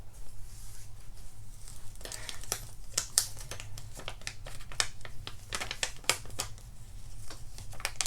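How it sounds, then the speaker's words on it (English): Heat transfer vinyl carrier sheet peeled slowly off a towel after pressing, a run of close crinkling, crackling and tearing-like rustles with sharp ticks throughout, no talking. "Go ahead and peel this while it's cold."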